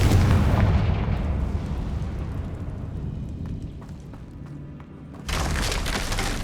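A Confringo blasting spell explodes in Hogwarts Legacy: a loud, close, rumbling blast that slowly fades, then a second burst of crackling debris near the end, with no talk.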